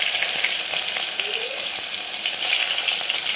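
Cumin and crushed garlic sizzle in hot oil for a tempering, a steady bright crackle with faint stirring, close and continuous, with no talking.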